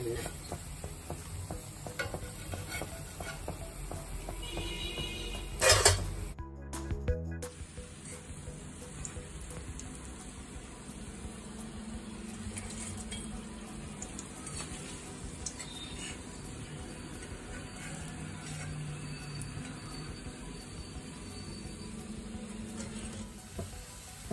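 Steady sizzling of okra pakoras deep-frying in hot oil, with occasional stirring clatter and a brief louder clank early on; no talking.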